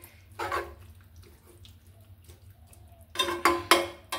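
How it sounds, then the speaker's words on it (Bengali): Water is poured into a cooking pot of Bengali dried fish curry in a short splash early on, then in several louder gushing pours near the end, close by with no talking. "এখানে আমি পরিমাণ মতো পানি অ্যাড করব।"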